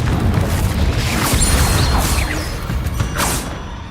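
Fire-spell explosion from Hogwarts Legacy: a loud, dense blast with crackling and whooshing bursts sustained across the clip, tapering slightly at the end.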